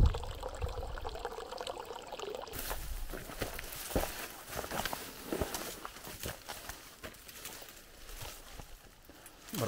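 Drinking water trickling from a spring on a walking route near Gülpınar, a steady close splashing trickle with soft patter and some shuffling movement throughout.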